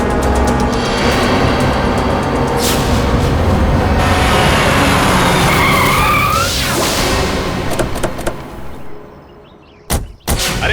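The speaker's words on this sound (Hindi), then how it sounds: "अरे गाड़ी क्यों रोक दी? देख के चला ना।" A vehicle skids loudly with sustained tire squeal and roaring noise, sliding for several seconds before braking to a stop, followed by a couple of heavy thuds.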